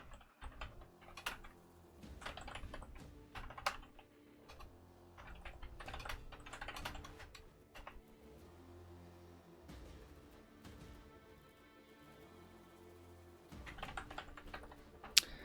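Keys clatter in quick irregular bursts on a computer keyboard while a stream title is changed, steady close-up typing with a few louder taps and no speech.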